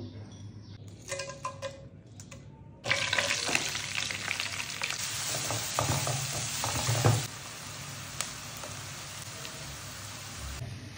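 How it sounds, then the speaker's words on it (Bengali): Whole spices, with chopped onion, garlic and ginger, hit hot oil in a pan for a chicken dish, setting off a loud, dense sizzle that runs for several seconds and then eases to a lower, steady fry. "এখন হচ্ছে তেলের মধ্যে আস্ত মশলা দিয়ে দেবো আমি।"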